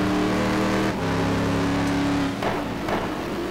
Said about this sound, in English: Yeah, he drifts the car through turn 1.